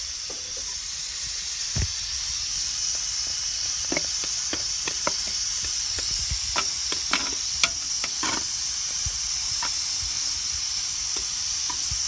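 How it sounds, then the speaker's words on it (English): Agar heating on the stove with a steady sizzle and hiss, broken by sharp scraping and clicking stirs that come irregularly, close and loud, with no voices. "So that's Agar heating up, and I'm going to get my stir."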